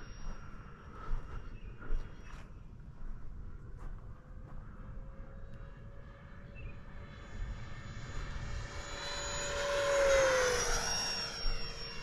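An RC model airplane flies past outdoors on a calm day, its whining motor rising in pitch and loudness as it approaches, peaking near the end, then sliding downward as it passes overhead.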